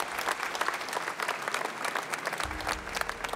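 Applause for the winning team from Singapore at the International Catering Cup awards ceremony, a steady crowd clapping with sharp individual claps standing out, a low rumble joining toward the end.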